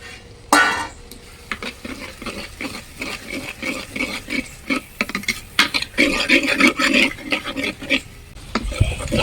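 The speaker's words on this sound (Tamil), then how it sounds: "வெங்காயம் வந்து நல்லா வதங்கிடுச்சு." Onions, green chilies and curry leaves fried in a pan over a wood-fired stove, stirred with a ladle that scrapes and clinks against the metal in uneven rhythm over a steady sizzle, close and loud.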